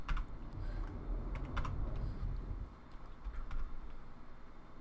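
A terminal command is typed on a computer keyboard, with quick, light keystrokes in an uneven rhythm, close up and fairly quiet.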